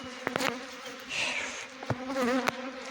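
A honeybee swarm buzzes in a brief, wavering hum, with a few sharp clicks and knocks close by.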